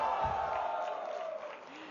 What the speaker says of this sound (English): please give a round of applause to Anand Ranganathan